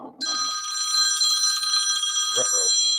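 A phone rings inside a pocket, a bright continuous electronic trill that starts after a brief murmur of voices and keeps sounding nearby, with a short spoken interjection near the end.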